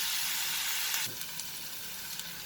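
Onion sautéing in a pan for a raw papaya curry, a steady broad sizzle that drops to a softer hiss partway through, with a few faint stirring clicks and no talk.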